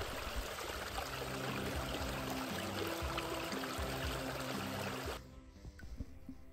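Water rushing steadily through a narrow, silty ditch on heathland, a dense continuous flow close to the microphone that drops off abruptly near the end, leaving quieter trickling.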